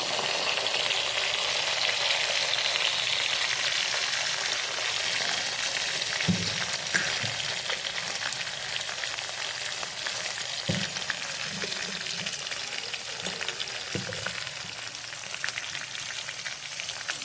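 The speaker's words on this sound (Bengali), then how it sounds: "আলুটা ফ্রাই বসিয়ে দিলাম।" Potatoes frying in a pan for a vegetarian puja dish, a continuous dense sizzle heard up close with a few soft knocks and stirs scattered through, no talking.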